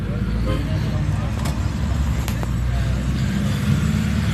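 Riding inside a dolmuş minibus in Istanbul, with a steady low engine rumble and road noise throughout and people talking over it.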